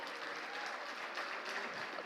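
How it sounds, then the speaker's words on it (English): Audience at an evening premiere showcase gives a round of applause: dense, even clapping from a crowd, heard at a fairly low level and slightly distant, with no speech over it. "A big round of applause."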